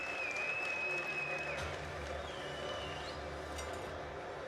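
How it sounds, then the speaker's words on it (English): A crowd claps and cheers in a large hall after a fight at a combat sports event, a steady roar of applause with a few whistles rising above it. "Let's hear some noise for these two gentlemen."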